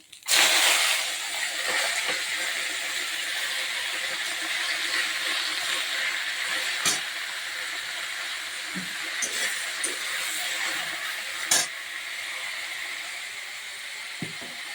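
Spinach greens hit hot oil in a pan seasoned with nigella seeds, bursting into a loud broad sizzle that settles into steady hissing crackle, with a few sharp clatters along the way.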